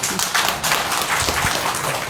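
Audience applause welcoming Sanjita Dogra at the BJP headquarters in Jammu, a steady wash of clapping at moderate loudness for about two seconds with no talk over it.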